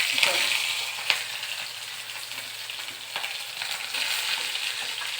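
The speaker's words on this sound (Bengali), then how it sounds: "এখানে কিছুটা পরিমাণ সর্ষের তেল দিয়ে দিলাম। দিয়ে দিচ্ছে কালো জিরে, কিছুটা চেরা কাঁচা লঙ্কা দিয়ে দিচ্ছি।" Black cumin seeds and slit green chilies sizzle in hot mustard oil in a pan, a loud, close, continuous crackling fry with a few sharper pops, and no talking.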